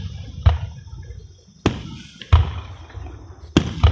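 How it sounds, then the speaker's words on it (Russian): Fireworks boom outdoors at a city birthday celebration: four loud, deep bursts spaced a second or so apart, each with a crackling tail fading into the night. "Мама, а из-за чего салют?"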